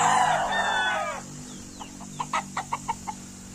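A Melsim Black crossbreed gamefowl rooster crows loudly and close, its long call fading out, followed by a short run of about six sharp clucks at an even rhythm.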